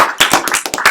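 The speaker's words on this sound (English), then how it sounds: "All right, one more round of applause, Mr. Bill" A short burst of clapping hands, close and lively, several quick claps in an uneven rhythm.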